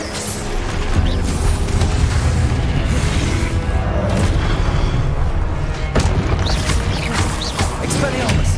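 Booming fire-spell blasts from Confringo in Hogwarts Legacy on PS5 come through as dense, loud explosive hits and rumbling impacts with clattering mechanical effects, continuous and heavy throughout.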